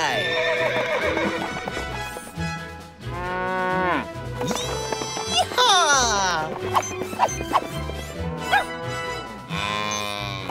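Horses ridden on a ranch by cowboys herding cattle give clip-clopping hooves with neighs and cattle moos, heard under loud, continuous music with singing throughout.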